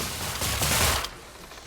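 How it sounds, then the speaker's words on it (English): Firecrackers dropped by rockets in the video game Skylanders Imaginators go off in a quick crackling burst of small pops lasting about a second, then fade. "The rockets drop firecrackers."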